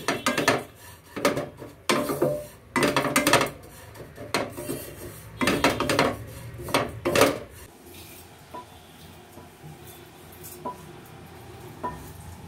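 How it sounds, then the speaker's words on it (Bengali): Oats are dry-roasted in a pan, and a utensil stirs and scrapes against the metal in bursts of rough, rattling scratches. The stirring is close and busy for the first half, then thins to a few faint clinks, with no talking. "আমি খুব ভালো করে এটা একটু ভাজা ভাজা করে নিই"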